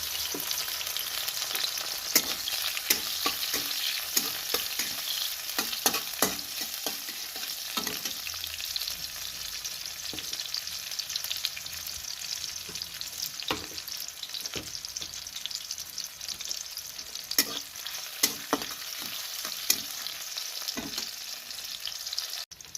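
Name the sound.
onions frying in pan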